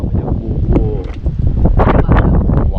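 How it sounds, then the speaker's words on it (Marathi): Strong wind gusts across a hotel balcony gallery at Bhimashankar, producing loud, close buffeting and rumbling microphone wind noise that swells and surges unevenly throughout. "वारा एकदम खतरनाक आहे"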